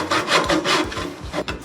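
Close, loud rasping strokes of a fine-cut hand saw cutting wood for stilts, several quick back-and-forth passes in a short burst without any voices.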